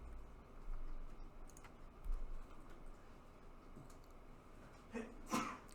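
One short, sharp sneeze bursts out near the end in a quiet lecture room, moderately loud against a hush of faint clicks and rustling.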